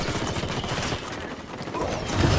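Dense, sustained burst of rapid gunfire in the video game Ghost Recon Wildlands, loud and continuous with no pauses, growing slightly heavier toward the end.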